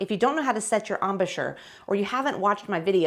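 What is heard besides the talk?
None of the usual background noises is heard.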